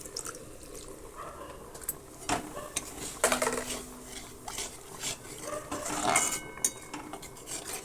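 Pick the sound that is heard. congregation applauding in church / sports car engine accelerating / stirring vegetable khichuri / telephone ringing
stirring vegetable khichuri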